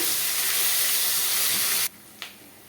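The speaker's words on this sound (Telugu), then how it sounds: "ఇందులోకి ఒక హాఫ్ టేబుల్ స్పూన్ వరకు అల్లం వెల్లుల్లి పేస్ట్ వేసుకుంటున్నాను ఇది కొద్దిగా పచ్చి వాసన పోయే వరకు ఫ్రై చేసుకోవాలండి" Ginger garlic paste fries in a pan for a mango dry fish curry, a loud, close, steady hissing sizzle that cuts off abruptly near the end, followed by one faint clink, with no talk.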